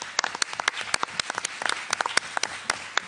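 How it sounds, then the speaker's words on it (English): Applause for a speaker at a book fair in Harlem, a modest audience clapping in sharp separate claps that form a brisk, moderately loud patter for about three seconds. "Please give him a round of applause"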